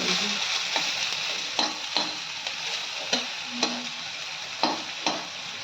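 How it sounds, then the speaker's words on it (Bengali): Potatoes fry in a pan for a spicy katla fish curry, a constant sizzle broken by regular scraping stirs of the spatula, close and fairly loud, with no voices. "আলুটা লাল লাল করে ভাজা হয়ে গেছে।"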